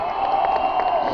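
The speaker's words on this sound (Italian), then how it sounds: "Questo era un vero applauso." A crowd at a motocross freestyle show cheering and clapping, a dense, loud burst of shouts and applause that holds steady through the moment.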